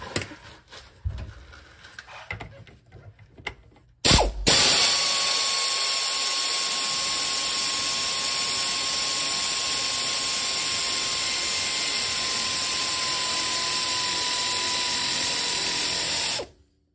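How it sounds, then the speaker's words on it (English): A nut is tightened on an air shock of a 1967 Ford Falcon. A few seconds of clinks and handling come first, then a loud, steady pneumatic tool whine runs for about twelve seconds and cuts off abruptly. "Now I'm gonna tighten it up."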